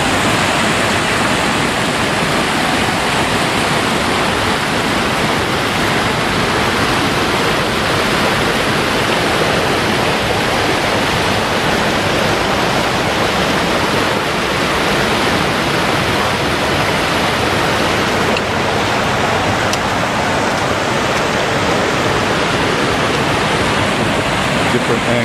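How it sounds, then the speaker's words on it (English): Secret Falls, a waterfall in the Smoky Mountains of Tennessee, pours in a loud, unbroken roar of rushing water, steady and close for the whole stretch. "Different angle of the waterfall."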